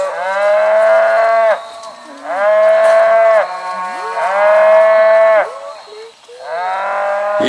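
Cows on a green hillside give four long, loud, resonant moos in steady succession, each lasting over a second with short pauses between, close to the listener.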